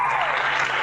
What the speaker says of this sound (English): I don't know how to turn this applause off